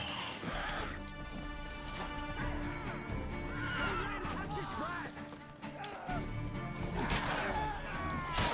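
A horse whinnies loudly over The Witcher 3: Wild Hunt game sounds, with hoof clops and rough clashing noises, and a voice speaks briefly under the action.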